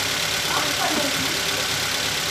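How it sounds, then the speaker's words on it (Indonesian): Engine of a Toyota Avanza / Daihatsu Xenia idling, a steady close running hum throughout with no noticeable change in speed. "ini mesin kondisi hidup"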